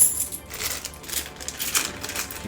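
Metal board game coins from an Aldarra box being poured and stirred together, bright jingling clinks and rattles coming in irregular bursts close to the listener.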